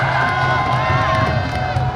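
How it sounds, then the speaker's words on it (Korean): A large crowd at an outdoor political rally in Korea roars and cheers, loud and sustained, with a dense wash of clapping and shouting and amplified voices blended in. "여러분 큰 박수 주십시오."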